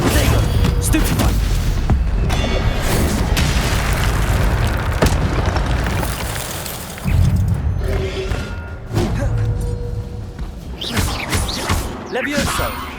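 Spells cast in Hogwarts Legacy, Stupefy among them, burst out as a dense run of booming, crashing magical impacts with rumbling blasts, loud and continuous over roughly thirteen seconds, with game voices calling spell names throughout.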